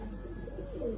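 Pigeons at an Egyptian bird market give a steady, low cooing that runs for about a second, close and fairly loud, with a slight swell near the end and no talk.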